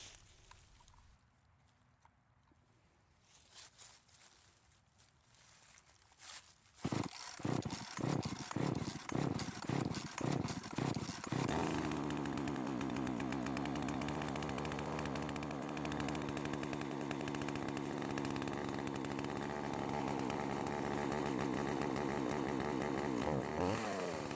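A Poulan chainsaw with an idle fault is pulled over: several sharp sputtering start attempts come first, then the engine catches and runs in a steady, loud, close drone to the end.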